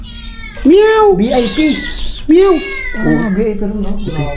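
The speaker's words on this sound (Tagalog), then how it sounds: "Bulag yung pusa." A blind cat at a seaside resort meows loudly several times at close range, with long wavering cries between people talking.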